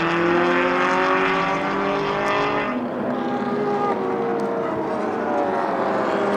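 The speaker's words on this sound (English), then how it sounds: "1958 Porsche 356. Beautiful car." A 1958 Porsche 356 racing at the Sonoma Speed Festival, its engine note loud and steady, with harmonic tones that shift and drop partway through as the car passes by.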